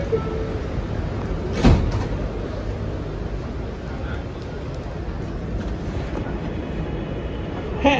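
A New York City Subway R211T C train rumbles steadily, with a sharp clunk of doors shutting early on and a faint "Stand clear of the closing door" announcement under the noise.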